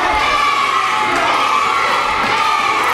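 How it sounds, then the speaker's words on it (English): A wrestling crowd in an indoor arena cheers loudly and steadily, a dense wall of shouting and yelling from many fans. "The crowd definitely trying to get behind the hometown V and Aaron Matthews"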